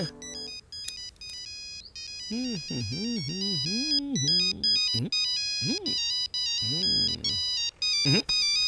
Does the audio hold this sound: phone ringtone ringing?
yes